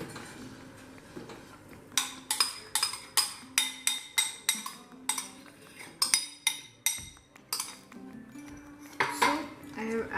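Spoon or spatula repeatedly clanking against a pan while spinach puree is mixed into oil-free palak paneer, a rapid series of close, bright metallic knocks with soft stirring between.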